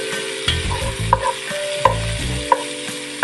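Onions frying with spices in a pan for peppery chicken kurma: a loud close sizzle under repeated scraping strokes of a spoon, with several sharp metallic clinks against the pan, no voices.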